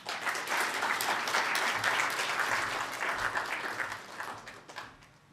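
An audience claps at the UNAM Innovation Competition awards ceremony, full steady applause that swells early, holds, then thins and tapers off toward the end.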